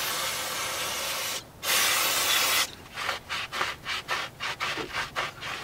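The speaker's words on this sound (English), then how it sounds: "you do want to get a rag with some brake clean or something similar and clean out this race in here" Rag soaked with brake cleaner wiping out the bearing race of a wheel hub on a 2006-2013 Chevy Impala: a long continuous hissing rub, a brief pause, then a run of quick rhythmic wiping strokes, close and fairly loud.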